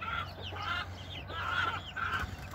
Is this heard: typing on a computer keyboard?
no